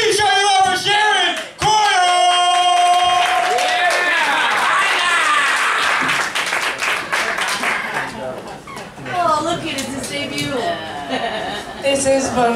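Applause and cheering rise from a comedy club audience at a cannabis club comedy night, welcoming comedian Sharon, as a dense, steady wash of clapping and crowd noise that runs throughout with voices mixed in.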